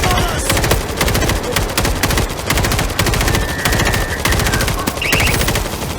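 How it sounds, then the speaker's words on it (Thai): Rapid, continuous automatic gunfire from the zombie shooter game World War Z in Horde Mode crackles in dense, loud bursts with barely a pause, filling the whole stretch. "เดี๋ยวกำลังยิงนี้อยู่"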